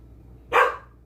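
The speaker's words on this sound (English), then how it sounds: "Because my dogs are loud." A single sharp bark from a pet dog indoors at home, loud and close, rising out of quiet room tone and fading fast.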